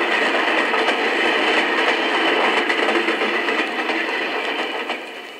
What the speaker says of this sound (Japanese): ビジネス特急こだま号の音です。